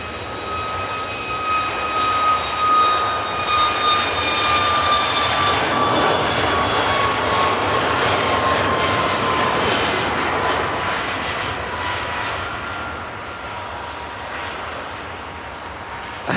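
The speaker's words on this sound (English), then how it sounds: "we got this TUI 737 MAX 8 heading off to Antalya" A TUI Boeing 737 MAX 8 jet takes off for Antalya, engines roaring loud and near with a sharp high whine, then slowly easing off as it climbs away.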